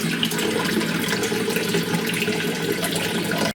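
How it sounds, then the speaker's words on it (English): A kitchen tap turned down low runs in a steady, thin stream, a continuous close hiss and patter of water with no pauses and no talking. "Turn it on to as slow a drip as I can."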